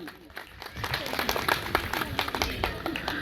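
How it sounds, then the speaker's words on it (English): Audience applause at the Prerna 2.0 Achievement Award 2025 ceremony, a dense patter of many hands clapping that swells after a quiet start and stays steady, with some voices mixed in underneath. "please give a big round of applause for Vivek sir."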